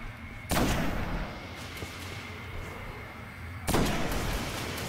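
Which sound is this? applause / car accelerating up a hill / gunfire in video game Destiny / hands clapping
gunfire in video game Destiny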